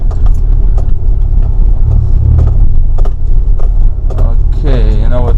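A 2010 Subaru Forester rolling over a bumpy, rough unpaved road, with a steady loud low rumble of tires and suspension, scattered clunks and rattles throughout, and a brief voice near the end.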